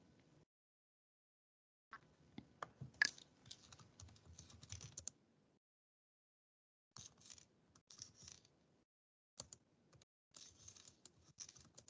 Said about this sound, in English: someone's typing